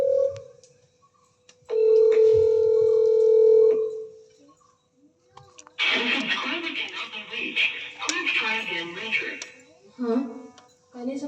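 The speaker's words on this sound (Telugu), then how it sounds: "ఒకసారి నా ఫ్రెండ్స్కి కాల్ చేసి చూస్తా." A phone call being placed: a steady tone, then a short burst of dialing beeps and tones, followed by someone talking with some background noise.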